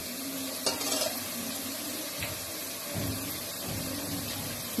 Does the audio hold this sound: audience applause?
no